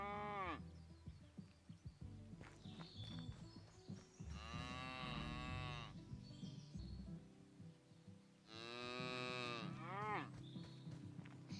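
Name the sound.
cows mooing in Pure Farming 2018 video game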